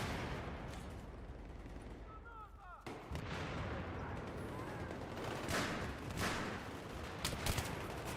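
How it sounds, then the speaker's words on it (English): Gunfire in Battlefield 3 on PS3: dense, sustained volleys of rifle and heavier shots crackle continuously at mid distance, with sharper reports near the end and a voice faintly in the background. "where's this guy shooting from?"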